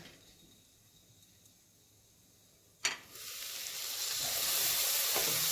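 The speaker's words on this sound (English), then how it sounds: "They're sauteing nicely." Vegetables sautéing in a pot for albondigas meatball soup: quiet room tone, then a sharp knock as the pan is reached, followed by a rising steady sizzle and hiss that grows louder to the end.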